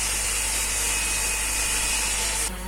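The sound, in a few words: power tool cutting wood for a table top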